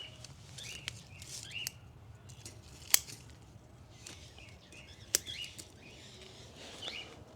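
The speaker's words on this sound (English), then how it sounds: "Just clip away the wisps that were growing on the fence line" Hand scissors snipping wispy plant growth along a garden fence line outdoors, a few faint, scattered crisp snips spread over several seconds against quiet background rustle.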